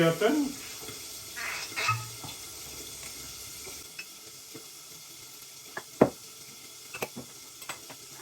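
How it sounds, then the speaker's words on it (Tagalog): Alamang (shrimp paste) sautéing in a pan gives a steady, fairly soft sizzle, with a few louder clicks and knocks from the pan toward the end. "Magigisa tayo ng alamang."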